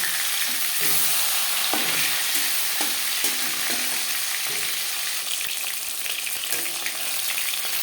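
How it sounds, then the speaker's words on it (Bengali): Silver carp fish pieces lightly frying in hot oil, giving a steady, close crackling sizzle with occasional stirring clinks throughout, no voices. "আমি একটু হালকা করে ভেজে নিচ্ছি আপনারা চাইলে এর থেকেও কড়া করে ভাজতে পারেন"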